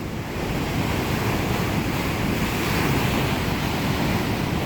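Big ocean waves crash into boulders along the shore at Puerto de la Cruz, Tenerife, a steady, loud roar of surf and spray mixed with wind buffeting the microphone.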